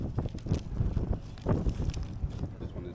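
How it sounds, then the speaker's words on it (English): Wind on a very windy day in London, by the River Thames near the cable car, gusts against the microphone as an uneven low rumble with repeated surging swells, no talk. "It's a very, very windy day today."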